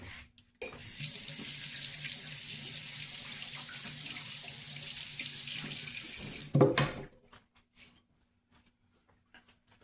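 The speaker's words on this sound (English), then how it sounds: "Now, rinse my hands off." A kitchen tap runs steadily as hands are rinsed under it, a close, even rush of water that stops abruptly with a brief splash and then gives way to near silence.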